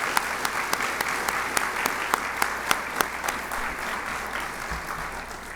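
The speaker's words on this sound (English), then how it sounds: "let's give all of these folks a round of applause" Applause from the audience at a scholarship dinner, sustained clapping from a large room with a few sharper individual claps standing out at a regular pace above the even roar.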